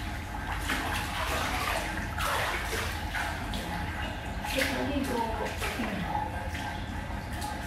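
Bath water running into an onsen-style bath, a steady splashing flow with drips and gentle sloshing at moderate level. A person can be heard in the background.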